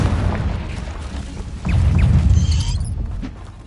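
A Confringo blasting spell explodes in the Hogwarts Legacy video game, a booming low burst that swells around the middle and rumbles over busy game effects.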